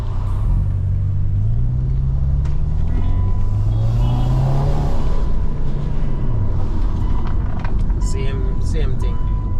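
A rebuilt Subaru EJ25 engine revs up during a test drive, rising then holding at a steady high pitch before easing down, heard from inside the car under a constant road rumble, with a voice talking near the end.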